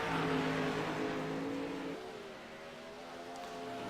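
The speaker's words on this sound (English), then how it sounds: "now we got the next group of cars coming out on the track" Race cars lapping the track at the Grove, a loud engine roar that drops abruptly in pitch midway, then a softer, more distant engine hum building back up.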